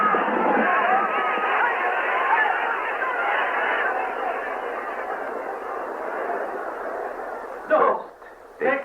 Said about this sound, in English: The crowd cried out in fury.